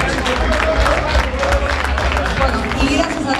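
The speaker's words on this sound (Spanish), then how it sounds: "un aplauso por favor a René Gator" Crowd applause for the winning team of a showmatch at a Heroes of the Storm launch event, dense steady clapping mixed with cheering and crowd babble, loud and sustained throughout, with talk buried in the noise.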